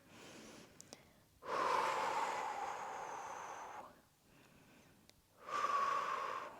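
Slow, deep breaths during a seated yoga twist pose, two long airy inhales or exhales separated by a quiet pause, close and clear with no talking.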